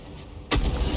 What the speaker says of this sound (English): lead the target, that's it, good, rounds out, direct hit